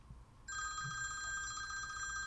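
A telephone rings with a bright, steady electronic trill that starts abruptly after a brief quiet moment and continues unbroken, loud and close over faint background noise.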